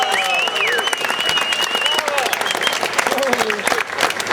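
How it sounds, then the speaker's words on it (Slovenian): An audience claps for Vjačeslav Poličuk of Ukraine at a high-diving event, a dense, sustained round of applause with voices and cheers rising over the clapping. "Vseeno en aplavz za Poličuk Vjačeslava iz Ukrajine."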